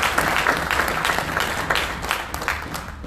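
Audience at a political party presidential debate applauds, a dense burst of clapping that swells and then gradually fades across a few seconds.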